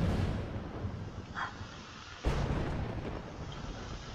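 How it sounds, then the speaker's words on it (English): Thunder in the video game Life is Strange: a low continuous rumble, then a sudden loud crack of a thunderclap partway through, fading into a long rolling roar. "what is up with the thunderstorms in my games?"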